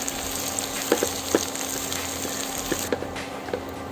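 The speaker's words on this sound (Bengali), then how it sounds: "এখন আমি 2টা পেঁয়াজ কুচি দিয়ে দিচ্ছি।" Chopped onions hit hot oil already tempered with dried chili and cumin for a beef kala bhuna, giving a steady close sizzle and crackle with a few brief clicks of stirring.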